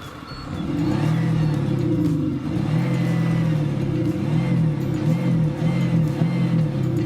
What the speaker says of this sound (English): What we're driving here is a 3-liter V6 diesel delivering 313 horsepower.